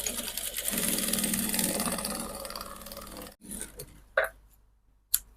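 A sewing machine running steadily for about three seconds as it stitches a folded neckline facing on a cowl dress, then stopping, followed by a few short clicks and thumps nearby.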